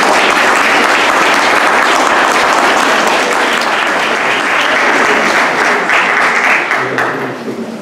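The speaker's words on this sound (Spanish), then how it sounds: "Un aplauso para el padre Rora." A large audience at a church choir benefit concert claps loudly for the parish priest, a dense, sustained roar of applause that thins and fades out in the last second.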